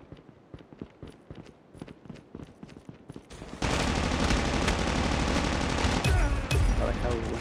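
Machine gun fire in COD Mobile, a sustained loud burst of rapid automatic shots that follows a stretch of quieter footsteps and scattered clicks.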